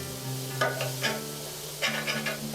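Onions and garlic cook in oil, giving a steady low sizzle with a few scraping stirs of a utensil through the pan, close and moderately loud, with no talking.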